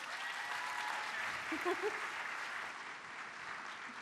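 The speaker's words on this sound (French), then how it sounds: "Une bonne main d'applaudissement pour la première équipe" An audience at a fashion-commercialization business event claps for the first finalist team: a fairly soft, even wash of applause with voices mixed in underneath.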